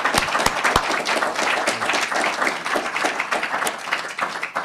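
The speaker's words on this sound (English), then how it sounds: "How about a round of applause for both of our candidates this evening?" Audience at a primary election debate for the 113th House District applauding both candidates, dense continuous clapping from a room crowd with a few sharp individual claps near the start.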